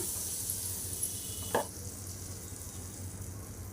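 Amul butter sizzles steadily on a hot griddle over a gas stove, a soft constant crackle, with a brief scrape of a utensil partway through.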